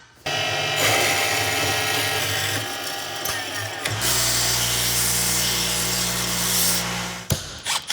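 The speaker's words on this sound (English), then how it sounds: "So we go and cut another piece of flat strap and do it again." Power tool cutting flat metal strap for a Honda Talon UTV build, a loud continuous grinding whine close by that shifts pitch partway through and cuts off near the end, with no voices.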